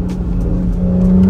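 A car engine holds a loud, steady drone with a rising rev toward the end while the car drifts on a road, close and continuous with no talk over it.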